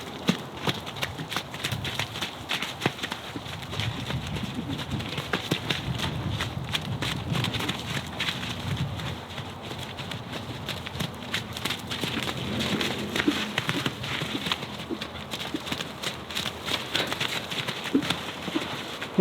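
Several horses running and lunging at each other in play, hooves drumming steadily on the ground for the whole stretch, moderately close, with some low thudding and outdoor rumble and no talk.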